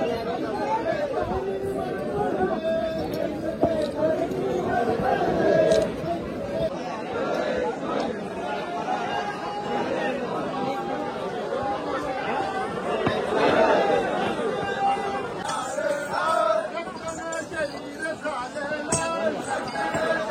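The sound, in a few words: large crowd chatter at Gadkot Mohim trek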